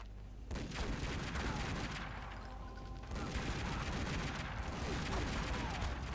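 Enemy gunfire in Tomb Raider Legend rattles in dense, continuous bursts, a steady volley of shots that barely lets up across the whole stretch, loud and close with faint voice traces beneath.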